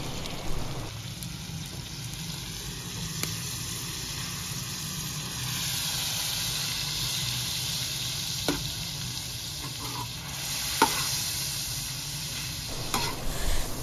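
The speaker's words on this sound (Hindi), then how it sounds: "अब इसमें दही शामिल कर लेंगे, अच्छी तरह मिक्स कर लेंगे।" Yogurt being stirred into a sizzling dish in a pot, a soft continuous sizzle and bubbling with a few sharp clinks of a utensil, heard close and fairly quiet without talk.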